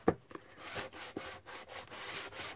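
A sanding block rubs against paper on an altered composition notebook, making a series of short, scratchy strokes in an uneven rhythm, close and fairly quiet.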